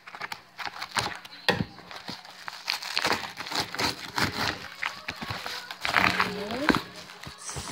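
Plastic wrapping on a package being cut open, giving close crinkling and crackling with scattered rustles and snips that come and go over several seconds.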